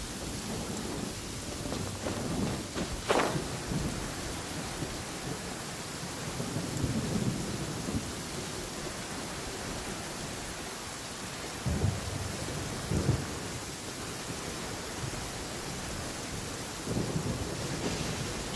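Steady rain and rumbling thunder in the video game Genshin Impact, a continuous downpour with several loud thunder cracks and rolling booms spread through it, no voices.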